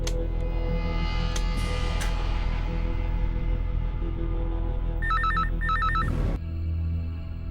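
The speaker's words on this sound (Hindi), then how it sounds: "ये लड़की, चल फोन उठा।" A telephone rings in quick electronic trills, two short bursts over a loud, steady dramatic music bed before the sound cuts off abruptly.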